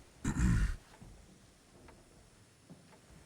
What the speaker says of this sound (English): You need to clear your throat there for a second.